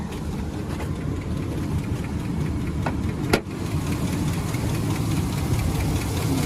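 A 2005 Chevrolet 2500HD truck engine idles steadily at low volume with a faint rhythmic ticking, interrupted once by a sharp click midway.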